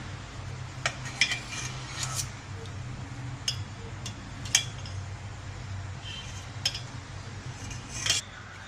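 A metal spoon clinks softly against a pan while gulab jamun are lifted one by one out of sugar syrup, giving a few scattered light taps over a steady low kitchen hum.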